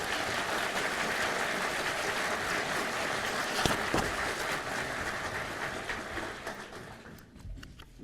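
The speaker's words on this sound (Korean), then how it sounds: "박수 한번 보내주십시오" An audience at a justice minister's inauguration ceremony gives sustained applause, a dense even clatter of many hands that fades out toward the end.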